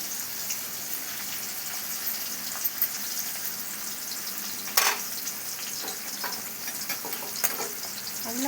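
Curry leaves frying in hot oil with cumin, mustard seeds and turmeric, a constant close sizzle punctuated by occasional sharp pops and crackles, no voices over it.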